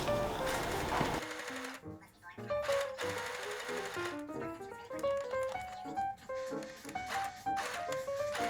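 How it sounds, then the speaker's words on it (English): A sewing machine stitches a fabric hem on a garment, its rapid mechanical chatter running in bursts and pauses beneath a voice. "And then I pinned it to the garment and sewed along that line."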